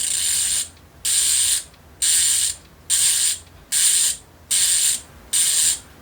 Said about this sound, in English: the main attraction of this hub is the 144 engagement, which sounds somewhat like this